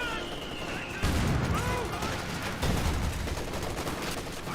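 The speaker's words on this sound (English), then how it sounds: "Taking fire! Sounds like an MG-42!" Rapid bursts of MG-42 machine gun fire in the World War II strategy game Company of Heroes 2, loud, dense, sustained chatter with overlapping battle noise and a few whistling shells.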